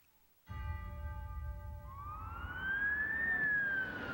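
An ambulance siren starts abruptly over a rumbling engine, its tone sweeping up and down as the vehicle comes close and grows louder.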